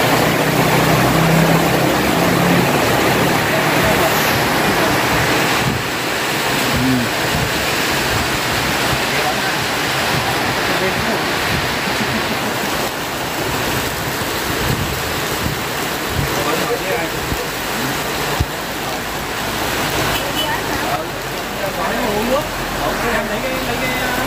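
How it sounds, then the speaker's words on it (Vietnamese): Heavy rain pours down steadily and loudly for the whole stretch, a dense roaring wash with no break. "Quá trời lớn mưa rồi."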